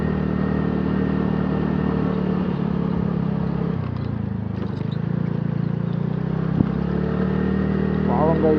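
A motorbike engine drones continuously up close as it labours along a rough estate road, a steady loud hum with small bumps and rattles, while someone talks over it.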